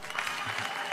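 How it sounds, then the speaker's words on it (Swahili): A church crowd at a political gathering in Nyandarua claps in a short, dense burst of applause, fairly distant and steady. "pigieni makofi."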